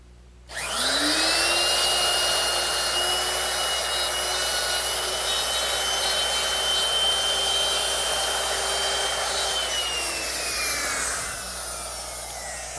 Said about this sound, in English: I'll just run the router through it